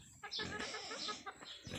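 Chickens cluck and chatter close by in a busy, noisy outdoor farm scene in Claveria, Misamis Oriental, with a brief sharp squawk at the end.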